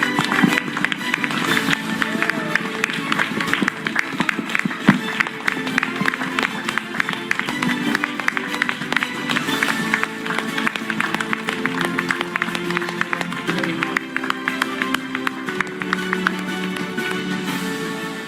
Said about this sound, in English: everybody, can you give a round of applause to Vaishali?